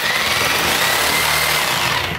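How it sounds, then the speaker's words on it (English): Reciprocating saw cutting through drywall beside a bathtub during a bathroom renovation, with a loud, continuous buzzing motor whine and rapid rattling blade strokes, close up and steady throughout. "I'm gonna cut 8 feet of drywall now with a reciprocator"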